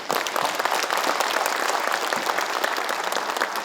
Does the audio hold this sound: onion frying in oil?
no